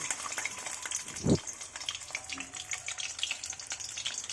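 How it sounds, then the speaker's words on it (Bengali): Potatoes frying in a pan of oil in a village kitchen, a steady fine crackling sizzle with one dull knock of a spatula, moderate and close. "আর এখন আলুটাও ভালো করে ভেজে নিচ্ছি"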